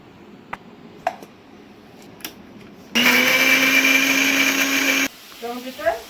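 An electric blender grinds tomatoes into a paste for a Bengali katla fish kalia, a loud steady whirring roar lasting about two seconds in the middle of the clip, with quieter kitchen clatter before and after it.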